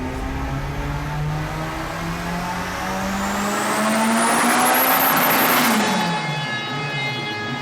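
A car with a swapped Volkswagen AP engine, running on boost, revs loudly and close with no one talking, its droning pitch climbing steadily before dropping away near the end.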